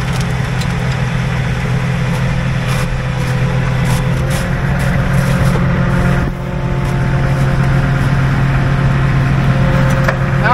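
A vehicle pivots on one wheel during a mountain recovery, its engine holding a steady, close, loud idle-like drone throughout with faint clanks and a brief dip midway.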